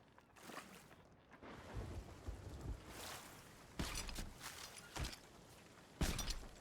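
Steady rain patter and rumbling in a pirate-themed video game, with a few sharp cracking bursts like thunder or impacts rising above the constant wash of rain.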